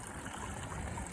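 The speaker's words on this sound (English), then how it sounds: "We have a little waterfall when it's coming off the log." Faint, steady trickling from a small ephemeral creek in a wet meadow, with a little waterfall spilling off a log over frozen ground and wood chips.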